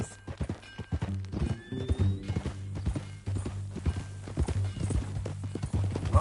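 A horse in a Western open-world video game clops its hooves on the ground and lets out a whinny, uneven thudding steps over a low steady hum, with brief tonal game sounds.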